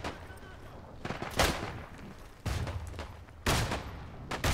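A submachine gun fires full auto in a World War 1 video game, with three separate loud bursts of rapid shots coming close, each trailing off into echoing noise.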